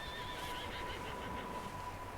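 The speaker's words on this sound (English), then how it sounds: "I know there's a horse in there." A horse in a barn in Red Dead Redemption 2 lets out a clear, whinnying neigh over a faint steady background, with no talking.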